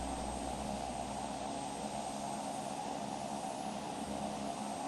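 Twin Otter DHC-6 engine sound in X-Plane 11 during virtual island hopping, a steady, unbroken broadband drone with a constant hum, heard alone without talk.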